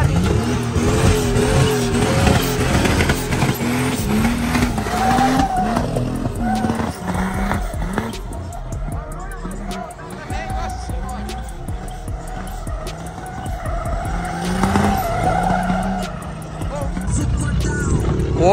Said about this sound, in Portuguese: com um parafuso na roda, o pneu já estourou